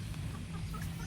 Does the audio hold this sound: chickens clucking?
yes